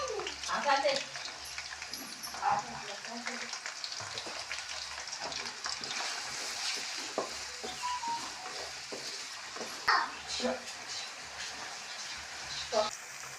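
Onions and green chillies sizzle steadily in a pan for a village-style country chicken curry, a dense crackling hiss with occasional stirring clinks close by.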